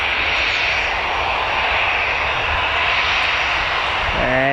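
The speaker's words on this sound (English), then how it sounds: "this EasyJet heading off to Bristol" EasyJet airliner departing Newcastle Airport for Bristol, a loud steady engine roar filling the air with a broad rushing noise throughout.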